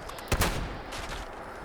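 A single loud Cold Shoulder shotgun blast in the video game Fallout 76, a sharp near report followed by a quick second impact and a fading tail under steady background noise.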